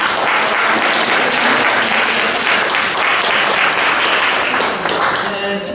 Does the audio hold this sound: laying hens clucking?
no